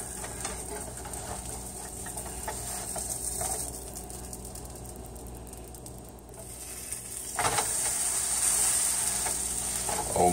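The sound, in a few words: Reuben sandwich sizzling on the grill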